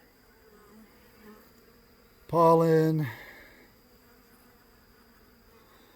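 Bees buzz loudly at close range for about a second while a beekeeper inspects a hive frame from an absconded split, with someone speaking quietly before and after the burst.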